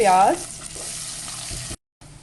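Finely sliced large onion sautéing with cumin seeds in a pan, a close, steady sizzle opening with a brief louder burst, then a short cut to silence before the frying resumes.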